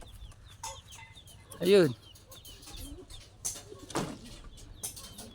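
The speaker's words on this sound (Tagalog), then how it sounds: "so pumipitik-pitik na yung pinakawalan nating young bird" Chickens cluck and call around a farmyard while a released young bird flaps, with a louder squawk midway and a person talking briefly.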